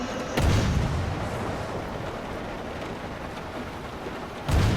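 Steady rain hisses across the whole stretch in the submarine video game UBOAT, with a heavy booming impact near the start and another at the end.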